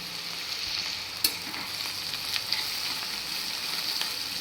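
Crumbled cabbage tossed into a hot pan of Indian-style tempering, frying with a steady bright sizzle and occasional faint stirring clicks, close up with no talking.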